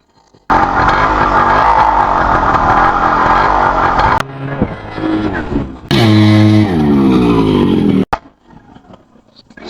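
A Yamaha RX 100 two-stroke motorcycle from the nineties runs loud and close, its engine droning steadily, then cutting out briefly before a second burst of rising revs and a sudden stop.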